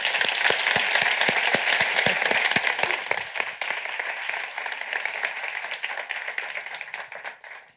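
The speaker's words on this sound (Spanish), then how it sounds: "les pido un enorme aplauso para Susana Martínez Conde" An audience breaks into applause: dense, even clapping at first that gradually thins and fades away toward the end, with no talk over it.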